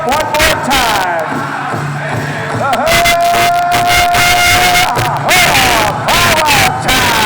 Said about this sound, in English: How about a round of applause and warm up these dancers?